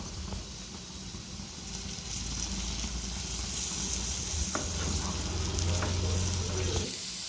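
Potato and beans masala with curry leaves stir-frying in a pan on the stove, a steady close sizzle with occasional light clinks and scrapes of stirring throughout.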